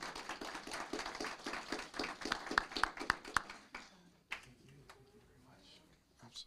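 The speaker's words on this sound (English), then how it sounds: "We give her a big round of applause." Audience applauding at a city council meeting, a few seconds of brisk, fairly close clapping that fades out, followed by quieter room sound and a voice speaking.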